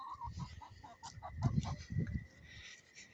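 Chickens cluck softly in a wet backyard farm pen that also holds goats, with a run of short, rhythmic clucks at moderate distance and no talking.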